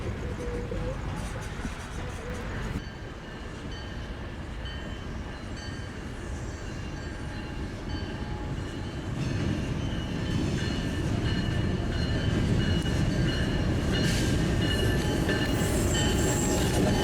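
A CSX freight train rumbles past at night in the Orlando area, a broad steady roar of wheels and rail noise that swells louder in the second half, with faint squeals and some background voices.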